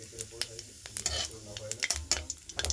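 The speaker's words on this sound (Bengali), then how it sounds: "আমি নিয়ে নিয়েছি একটুখানি জিরে আর শুকনো লঙ্কা একটু ফোড়ন" Cumin seeds and dried red chilies tempering in hot oil, giving bursts of crackling sizzle and sharp pops over a low hum, with brief stirring scrapes in between.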